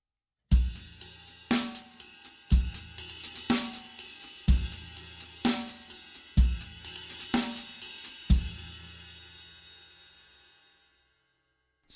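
A drum groove using a six-stroke roll that starts on the singles, with Istanbul Mehmet cymbals over steady backbeat hits, played alone and close, ending on a cymbal crash left ringing out to silence.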